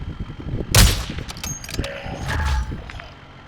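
Sharp bursts of gunfire in Call of Duty: Modern Warfare II DMZ mode, a loud shot followed by several quicker cracks and mechanical clatter, with no talking over it.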